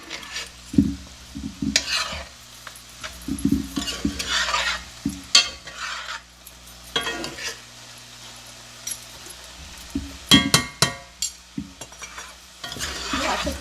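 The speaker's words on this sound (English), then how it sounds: "You generally want to let this simmer on medium-high heat for about 8 minutes" Crawfish bread filling simmering in a pan on medium-high heat, with repeated spoon stirs scraping through it in bursts over a soft steady sizzle.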